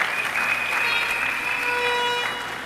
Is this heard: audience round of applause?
yes